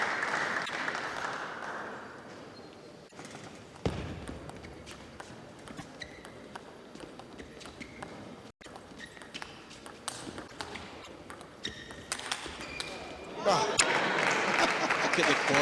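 Crowd applause at a women's table tennis semi-final at the 2012 World Open in Ekaterinburg, Russia, swelling loudly near the end after a stretch of quieter hall noise and scattered taps, with a commentator talking over it.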